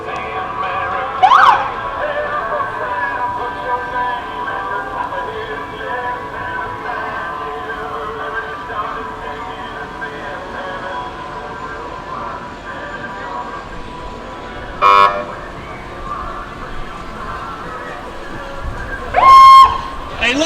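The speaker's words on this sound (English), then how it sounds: "A Lebanon fire engine." A fire engine siren wails on and off over a busy outdoor crowd at an Independence Day parade in Lebanon, with a couple of louder horn-like blasts cutting through near the middle and end.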